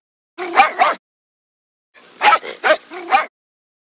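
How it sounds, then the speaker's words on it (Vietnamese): A dog sound effect barking loud and close, two quick barks, then a pause of about a second before three more barks in a row. "Sau khi sủa hai tiếng to và rõ"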